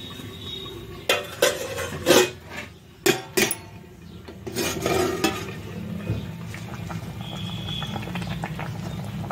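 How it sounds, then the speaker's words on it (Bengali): Chicken and potato curry in a red gravy cooking in a pot, with several sharp clanks of a spoon against the metal pot over a low simmering bubble. "আর এখানে এখন তরকারি রান্না হচ্ছে"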